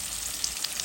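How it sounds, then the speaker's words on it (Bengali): Onion, tomato, salt, cinnamon sticks, cardamom pods and bay leaves fry in hot oil, giving off a short, steady, close sizzle. "ভাজা ভাজা করবো"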